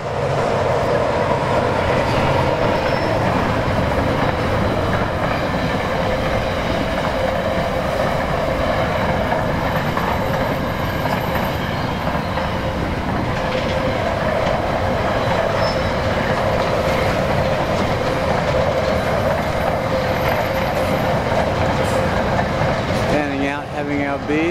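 A train rumbles past steadily and loudly near the Ooldea track for the whole stretch, with rolling wheel noise and a faint squeal near the end.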